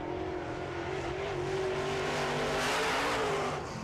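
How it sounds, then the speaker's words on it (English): Late model race cars roar around the track in a heat race, engines droning loudly with a rising pitch as they accelerate past, a dense close engine wash building toward the end. "So a pretty good lineup of race cars in this race."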